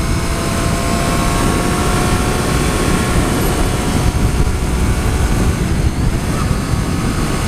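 A 2014 Triumph Street Triple R motorcycle holds second gear under way, its engine a steady, loud, unbroken drone blended with wind roar for the whole stretch.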